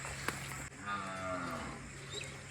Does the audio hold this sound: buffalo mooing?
yes